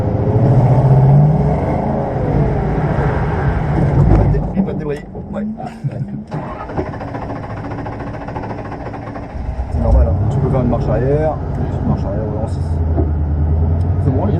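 A Ford Mustang's engine roars and surges during drift practice on a track, loud and sustained with throttle swells and dips; an instructor's voice speaks over it in French.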